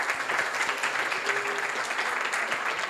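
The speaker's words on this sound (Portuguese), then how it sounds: "Vamos aplaudir." Guests at a church wedding celebration applaud together in a steady, dense round of clapping that carries evenly throughout, with faint voices underneath.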